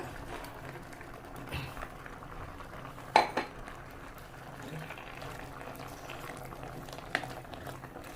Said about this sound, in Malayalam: മീനൊക്കെ ഇതിലിട്ടിട്ടുണ്ട് നല്ല തിളക്കുന്നുണ്ട്